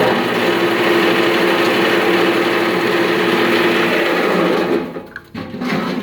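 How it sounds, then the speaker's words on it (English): A plastic shredder machine grinding up plastic trash runs with a loud, steady mechanical whine, then briefly dips and sputters near the end before picking back up. "So if I shred it down here without jamming my machine, I can take these larger particles and throw them in here, and then turn this machine on."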